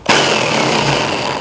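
A power drill bores into the steel body of a car to fit a fibreglass scoop with an external flange, a loud continuous whirring grind that starts abruptly and holds steady at close range, with no talking.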